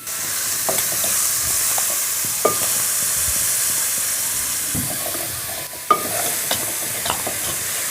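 Onion pieces sizzling steadily in a hot pan while being stirred, with occasional scraping clatters of the spoon against the pan, close and continuous with no talk.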